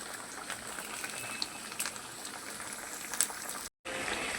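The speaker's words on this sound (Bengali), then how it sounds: "টক টক ফুটছে।" A pot of katla fish curry with fried lentil dumplings (bori) boils at a rolling bubble, a steady close simmer with small pops and one brief dropout near the end.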